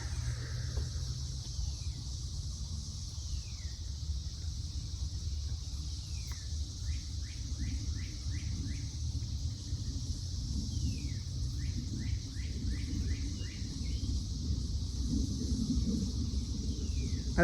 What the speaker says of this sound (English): I like listening to these nature sounds, birds.